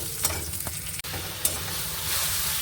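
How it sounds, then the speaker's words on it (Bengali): Onion, chili and garlic are fried as a tempering for boiled moringa greens, with a continuous close sizzle, brief stirring clatters and a sharp utensil knock midway, no talk. "নামিয়ে নিয়ে পেঁয়াজ লঙ্কা রসুন ফোড়ন দিয়ে ভাজছি"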